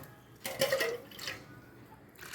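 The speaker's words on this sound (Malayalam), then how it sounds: "ഇതിനെ കുറച്ച് വെള്ളം ഒഴിച്ച് ഒന്ന് കുതിർക്കാനിടുക" Water is poured over a glass of chana dal to soak it, a brief, faint splashing pour in the middle with quiet kitchen ambience around it.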